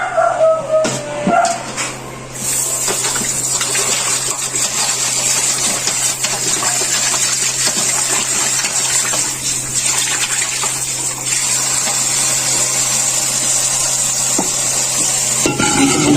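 Running water gushes steadily from a tap while pork leg (pata) is washed, a loud continuous splashing stream with a few clunks near the start.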